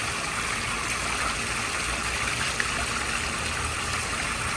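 Warm spring water flowing at Warm Springs, a steady, even rush and trickle heard close and fairly loud throughout, with no voices.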